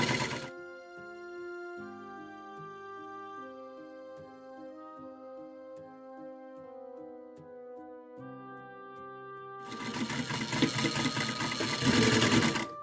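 A sewing machine stitches a washable fabric face mask, running in a steady rhythmic whir with short pauses and speed changes, then a louder, busier burst of rapid stitching at the end.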